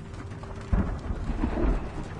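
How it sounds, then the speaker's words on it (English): A thunderstorm in Shadow of the Tomb Raider: a sudden low thunder crack and rumble over steady rain, loud and close, with no talking. "this storm sounds terrifying"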